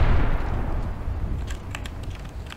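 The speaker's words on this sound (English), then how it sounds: "Uh-oh, that's a grenade, be careful." A grenade goes off in Apex Legends as a loud, booming explosion that rumbles and fades, followed by a few sharp, distant gunshots crackling near the end.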